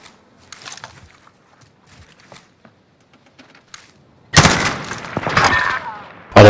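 Gunfire in Call of Duty: Modern Warfare: a long loud burst of automatic shots erupts after quieter scattered clatter and footsteps, then a final sharp blast at the end.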